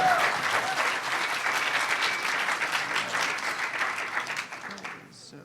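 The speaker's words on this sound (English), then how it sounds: "Give him a round of applause." A room full of people claps steadily, loud and sustained, then the applause fades out toward the end.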